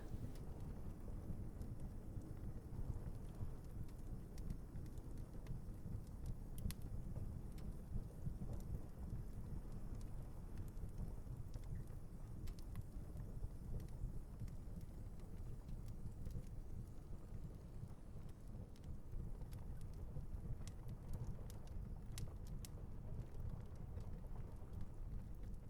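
Steady rain falling through a thunderstorm, a continuous soft hiss of drops with faint low thunder rumbling beneath, heard at a distance and without any voices over the whole stretch.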